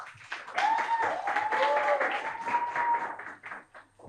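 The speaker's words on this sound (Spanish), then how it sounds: "Con eso pasamos, un aplauso por favor." An audience applauds at a youth digital activism session, a brief burst of clapping that swells and fades over a few seconds with a faint whistle-like tone running through it.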